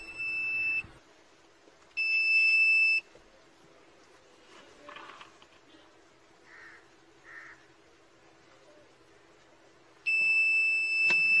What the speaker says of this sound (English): if the driver looks down or looks up for more than 2 seconds, a buzzer is activated,